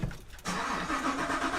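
Chevrolet Camaro engine cranking and catching, a brief starter burst followed by a sudden loud, full idle roar that holds steady, close up with no talking.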